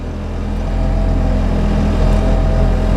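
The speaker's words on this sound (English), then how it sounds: "I hope that you can hear me over the engine." An engine runs at a steady, loud idle close by, a constant low drone with no speech.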